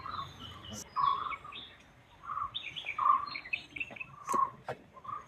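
Birds chirp and sing in jungle on a hillside near Munnar, with repeated short calls rising and falling over a quiet, faintly noisy background.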